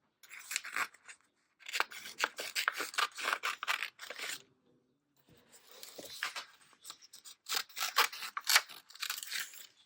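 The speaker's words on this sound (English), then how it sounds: "I'm going to cut out the lady in the sort of violet colored dress here." Scissors cut out a printed paper picture in a journaling session, giving close, crisp snips and rustling scrapes in several bursts separated by a short pause.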